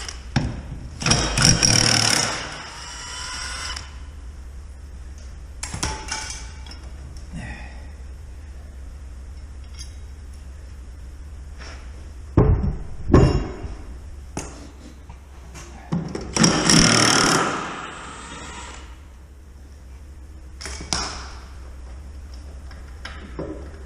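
Kubota zero-turn mower deck blades being taken off with a 30 mm socket: scattered clanks and metallic ratcheting bursts, with a few louder clusters of tool work separated by quiet pauses, close by and without talk.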